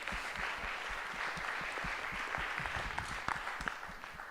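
Steady, dense applause from a conference audience at a 2018 chatbot technology panel, sustained evenly throughout at moderate level with scattered sharper claps standing out near the end.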